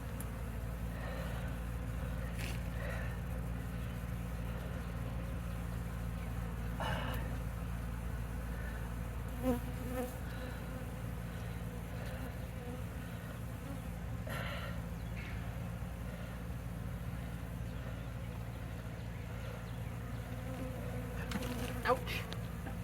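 Bees buzz in a dense, continuous swarm during a hive removal from a log, with a steady drone throughout and occasional close passes and faint knocks.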